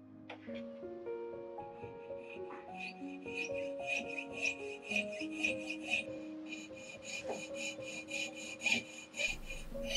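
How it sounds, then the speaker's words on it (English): A fine piercing saw cuts screw recesses in a watch balance wheel held in a vice, giving a quick, rhythmic rasping of steady strokes over a soft melodic music bed. "The recesses for the screws are cut out with a piercing saw"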